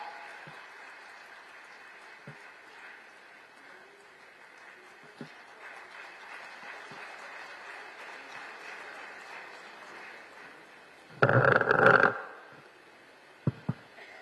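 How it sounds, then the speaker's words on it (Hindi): Applause at a formal public ceremony where a statue is unveiled in Meerut: a low, steady wash of distant clapping from a large crowd, followed by a brief loud surge of noise near the end. "एक बार जोरदार तालियों के साथ"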